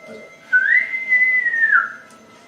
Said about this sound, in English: You hear a bright whistle break the silence